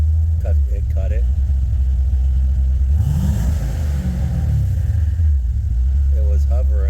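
A car engine idles steadily after a twin turbo install, a loud, close, continuous low rumble with a brief rise in pitch midway, and someone talks over it.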